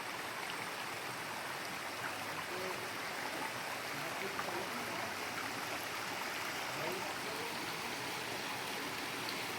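Steady broadband rush of creek water flowing, continuous and fairly close, with no clear breaks or distinct splashes throughout.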